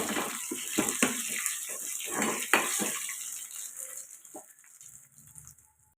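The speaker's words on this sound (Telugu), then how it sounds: "పోపు ఇలా వేగుతుంది కదండి" Dried red chillies and tempering spices frying in hot oil, a close, busy crackle and spatter with sharp pops early on that gradually thins into a quieter sizzle.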